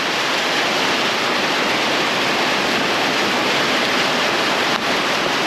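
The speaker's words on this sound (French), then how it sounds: "Je suis à 200 mètres de la cascade, mais il faut que je passe ce torrent là" A rushing mountain torrent close to a waterfall on Koh Mak, Thailand, gives a loud, steady, unbroken roar of water throughout, with no voices.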